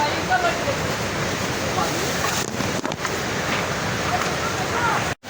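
Lalthana waterfall at Sativali during the monsoon gives a loud, unbroken roar of rushing water, with wind buffeting the microphone and possible faint voices in the background.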